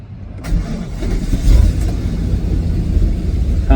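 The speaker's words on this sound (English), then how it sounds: "You hear the idle up and down?" A Chevrolet/GMC engine with a throttle body problem starts and runs with a rough, misfiring idle, a loud close rumble that swells and sags unevenly for a few seconds.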